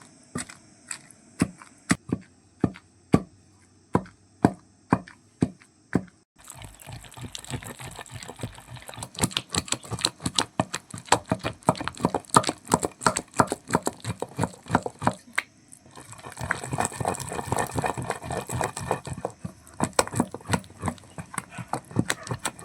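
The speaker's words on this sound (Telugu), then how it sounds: "ఇప్పుడు దీన్ని నెమ్మదిగా దంచుకోవాలండి" Gongura leaves and green chillies are pounded in a stone mortar: slow, evenly spaced thuds at first, then faster dense pounding with grinding scrapes, all close and without talk.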